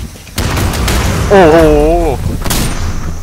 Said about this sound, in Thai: บ้านคงระเบิด นี่ก็ยิงกัน